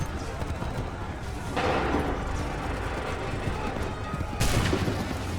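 Muskets fire in two massed volleys during a battle in the video game Assassin's Creed III Remastered. Each sharp, crackling blast rises over a continuous rumble of battlefield noise, with the second volley coming a few seconds after the first.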